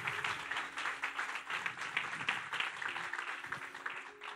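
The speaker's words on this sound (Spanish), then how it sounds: "Dale un aplauso al Señor." Church congregation applauds during a sermon, a faint, moderate patter of clapping with a low hum and organ-like tones beneath.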